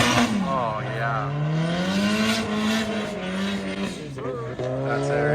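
A drift car sliding around a teardrop loop at a drifting exhibition, engine wailing and rising and falling in pitch with tire squeal over it, close and loud, with crowd voices mixed underneath.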